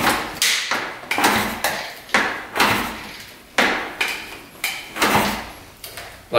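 A rare 500cc supermoto motorcycle that sat unused for 15 years is kicked over about eight times in a row. Each kick brings a sharp, loud mechanical thump and a fading rattle, and the engine never fires.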